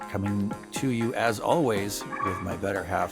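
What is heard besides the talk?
dogs barking in the background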